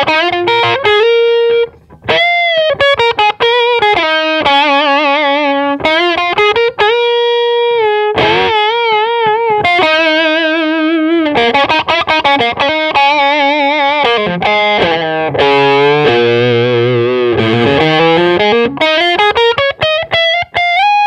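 A heavily distorted Granville Bugs custom electric guitar plays a lively melodic line, loud and sustained, with gritty overtones and bending notes.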